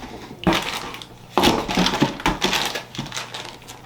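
A plastic bag of soft plastic speed worm fishing lures being handled: sharp crinkling and crackling bursts with rustling in between, close and fairly loud, with no talking.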